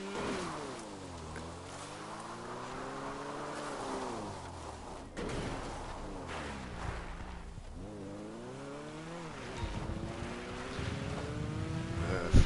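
A car driving in the video game GTA V, its engine revving up and dropping through repeated gear shifts, rising and falling pitch sweeps that are loud and close, with no talking over it.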